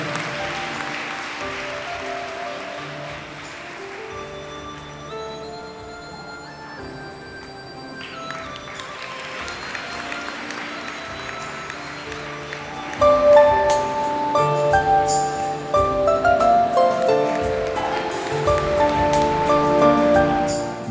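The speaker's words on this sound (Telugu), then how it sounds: "అందరం గట్టిగా చప్పట్లు కొట్టి మన ఆనందాన్ని తెలియపరుద్దాం" A large crowd claps at a religious enthronement ceremony in Visakhapatnam. Dense, loud applause swells in the second half over music that carries on throughout.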